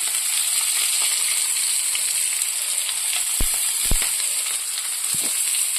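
Chopped onion and green chili sizzle in hot oil, a loud, steady, close frying hiss with a few sharp crackles and pops partway through.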